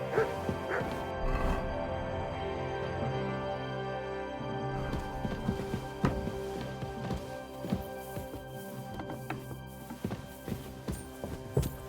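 Mutt the dog in Kingdom Come: Deliverance II barks, yips and whimpers in short bursts over steady game music, with footsteps and hoof clops scattered throughout.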